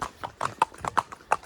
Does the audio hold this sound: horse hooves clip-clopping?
yes